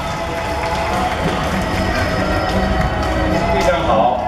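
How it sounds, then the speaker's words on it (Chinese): A live audience at a Chinese acrobatic troupe's interactive magic show claps and cheers for a young performer, a steady wash of applause filling the hall with a host's voice over it. "掌声欢迎她"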